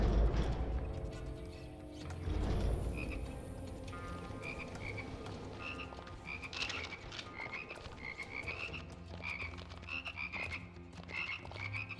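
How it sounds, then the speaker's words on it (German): Frogs croak repeatedly in a video game, Immortal Redneck, a rhythmic chorus of calls layered over low ambient music and a deeper thump near the start, steady and fairly close throughout. "Ich höre Frösche, ich sehe sie bloß nicht, das gefällt mir nicht."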